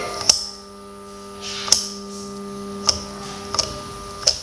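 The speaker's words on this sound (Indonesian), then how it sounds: "Kipas anginnya tidak berputar diikuti dengan suara mendengung pada mesin." A steady low electric hum from a stalled electric fan motor that fails to spin drones on, punctuated by sharp clicks roughly every second or so.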